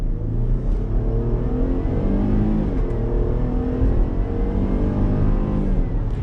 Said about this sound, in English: It sounds pretty good for a V6.